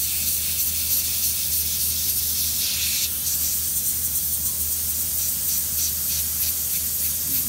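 An airbrush spraying paint onto a t-shirt: a continuous, even high hiss of air and paint, close and steady, with brief pulses as the spray starts and stops.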